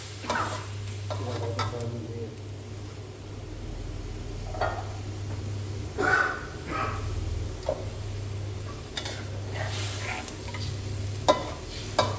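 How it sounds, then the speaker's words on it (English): A pan of Thai red chicken curry is stirred after a cup of water goes in and it comes to a boil, with soft scraping and stirring scuffs, light sizzling and bubbling, and a few clicks over a steady low hum. "Add 1 cup of water, stir, and bring to a boil."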